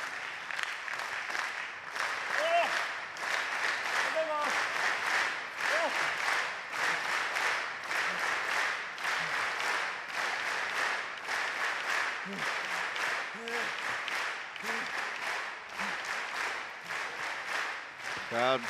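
A wrestling crowd at a New Japan Pro-Wrestling Best of the Super Jr. show keeps up loud, sustained rhythmic clapping and cheering throughout, with an announcer's voice talking over it.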